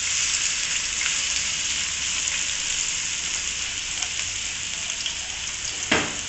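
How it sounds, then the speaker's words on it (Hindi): Onions frying in about three spoonfuls of hot ghee for a chicken vegetable roll give off a steady, even sizzle with a brief sharper crackle near the end, close and alone with no voices. "घी हमारा गर्म हो गया है, अब इसके अंदर प्याज डालेंगे।"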